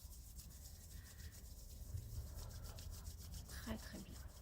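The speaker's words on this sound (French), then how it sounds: "On frotte les mains l'une contre l'autre." Two hands rubbing against each other, a soft continuous swishing friction with repeated back-and-forth strokes, close and faint, without talk.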